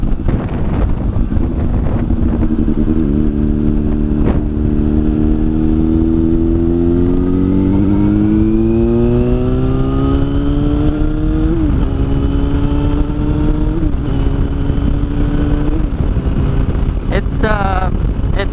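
A 2009 Yamaha FZ6 motorcycle engine while riding, droning loudly and climbing in pitch as it revs, with brief shifts between gears, all under heavy, constant wind buffeting on the microphone.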